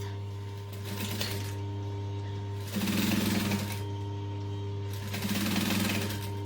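A sewing machine stitches vinyl with a long stitch length, whirring in three distinct bursts separated by pauses, over a constant low electrical hum.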